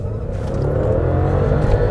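Engine of a 2006 BMW 750i revving in a workshop, a loud steady drone that climbs slightly in pitch over two seconds, close to the car and heard alone.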